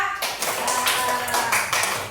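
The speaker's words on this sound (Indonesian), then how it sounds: "Tepuk tangan buat kelompok 2" Classroom applause for a student group after a presentation, a dense patter of claps from a small class, moderately loud and steady throughout.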